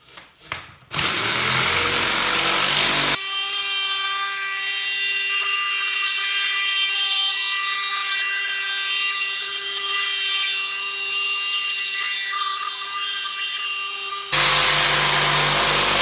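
Power tool cutting into the foam interior of a guitar case, a loud steady high-pitched whine that starts abruptly after a brief rattle and runs continuously for about ten seconds, then shifts to a rougher tone near the end.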